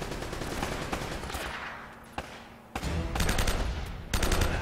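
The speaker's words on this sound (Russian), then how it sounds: "Откуда шмаляют?" Rapid gunfire in the action video game Uncharted from The Nathan Drake Collection, with dense automatic bursts that thin out briefly and then resume loud and close, with no talking.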